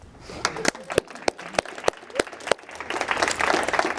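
An audience at a diversity and inclusion event claps, with separate hand claps at first that grow into dense applause and some cheering toward the end, fairly close and loud.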